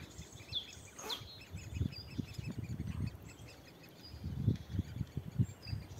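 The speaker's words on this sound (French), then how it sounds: "je me dis c'est peut-être des tout petits bébés oiseaux" Tiny baby birds chirping outdoors, faint high peeps scattered through the clip over low rustling and soft thumping background noise.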